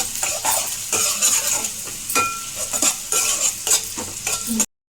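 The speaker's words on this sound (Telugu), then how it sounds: "సన్నగా కట్ చేసుకున్న పచ్చిమిర్చి, ఒక రెప్ప కరివేపాకు అయితే వేసుకొని కలిపేసుకుందాం" Onion, green chilies and curry leaves stirred in a frying pan, with a steady sizzle under repeated scraping strokes of a spoon against the pan, close and fairly loud, ending abruptly.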